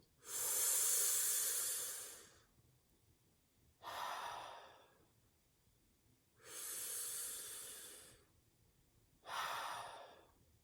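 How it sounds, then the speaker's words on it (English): Slow, controlled breaths drawn as if through a straw in a vocal warm-up exercise: four airy, hissing breaths, each a few seconds long and separated by short pauses, close and fairly quiet, with no talk. "you just imagine you're breathing through a straw"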